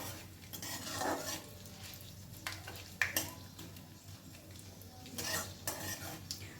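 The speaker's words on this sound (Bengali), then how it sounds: "দিয়ে দিচ্ছি এক চামচ মতন হিং আবারও একটু আমি নাড়াচাড়া করে নেব" A spoon stirs about a spoonful of asafoetida in a cooking pot for a white potato curry, with a soft background sizzle, scraping, and a few bright clinks of metal against the pot, no talking.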